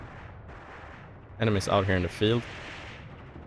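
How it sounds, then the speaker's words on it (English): Gunfire from the video game Mius Front rumbles steadily across a battlefield, a dull, distant barrage that keeps going under someone speaking briefly over the top. "Look at this machine gun fire coming towards height 165."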